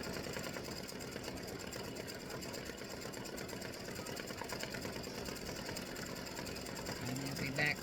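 An embroidery machine stitching a Halloween witch and spiders design hums with a fast, steady mechanical needle rhythm, fairly quiet and continuous throughout.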